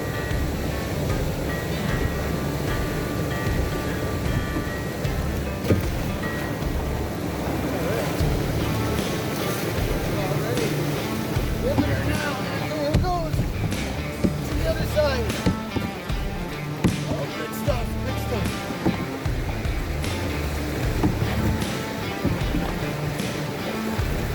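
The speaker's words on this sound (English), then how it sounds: "First set of rapids." A solo canoe running whitewater rapids on the Mississagua River, a continuous loud rushing roar of churning water with scattered splashes and paddle knocks, wind noise mixed in throughout.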